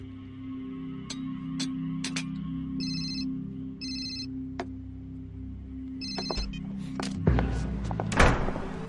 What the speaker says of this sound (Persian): چرا تلفن رو نمیگیری؟